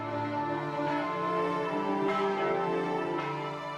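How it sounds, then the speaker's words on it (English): Church bells of St. Mark's in Venice tolling at dawn, a dense, sustained ringing with layered overtones and fresh strikes roughly every second, loud and continuous without speech. "At dawn, once the bells of St. Mark toll, the guards open the gates."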